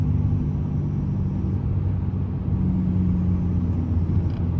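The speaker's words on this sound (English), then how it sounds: "you can hear that turbo brake" Ram pickup with a Cummins diesel engine and HE351VE turbo, its turbo exhaust brake engaged while driving, a loud, steady low rumble with a droning hum from inside the cab; no talk.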